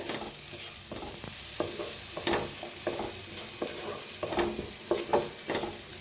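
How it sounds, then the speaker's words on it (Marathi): Masala of red chili powder and garam masala roasts in a hot pan with steady sizzling and crackle, while a spoon stirs and scrapes it in uneven strokes, close and moderately loud, with no voices. "आता मस्त असा सगळा मसाला भाजून घेऊया"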